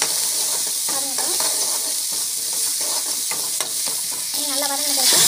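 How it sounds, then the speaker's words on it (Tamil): Asafoetida sizzling and frying in a pan, a steady bright hiss throughout with intermittent scraping stirs and short clinks close by. "பெருங்காயம் போட்டு நல்லா வந்து வதங்கட்டும்."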